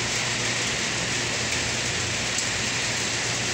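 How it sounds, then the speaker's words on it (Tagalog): Steady, loud rain pours down on a dark afternoon during flooding, a dense even hiss that stays constant throughout, with no voices. "halos maghapong umuulan"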